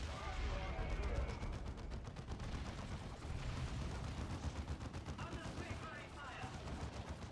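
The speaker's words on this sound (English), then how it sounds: "I am a Space Marine who's shooting at you with a heavy bolter suppressing you" Sustained heavy bolter fire from a Space Marine in the Dawn of War 2: Chaos Rising strategy game, a dense rattle of rapid shots continuing throughout with battle noise and voices mixed in.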